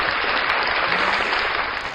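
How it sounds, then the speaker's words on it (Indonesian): Applause from a small group of listeners after a singer's performance on an online radio singing show, a steady broadband clatter of clapping held at an even level for about two seconds. "Keren sekali. Tepuk tangannya mana nih?"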